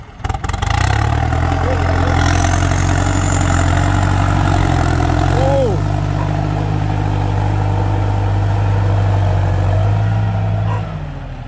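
A John Deere 6640 tractor idles steadily in a field, its low, even diesel rumble loud and close throughout with a brief dog bark partway through and no talking.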